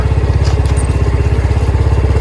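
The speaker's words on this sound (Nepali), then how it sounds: "बाइक हिँड्दा पनि केचर्र गर्छ" A motorcycle rides over a road glazed with ice in a village, its engine chugging loud and steady and close, with a faint gritty crunch underneath and no talking.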